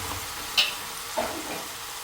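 Marinated chicken frying in a pan for biryani, a steady close sizzle broken by two brief scraping stirs, with no one talking.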